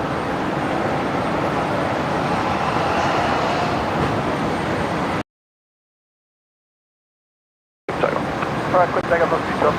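A Boeing 757 jet takes off at Brisbane Airport, a broad, steady roar heard from a distance that cuts out in the middle and returns alongside a few short voice sounds.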